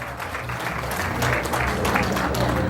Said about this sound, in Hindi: एक जोरदार ताली हो जाए आप लोगों के लिए दोस्तों साथियों।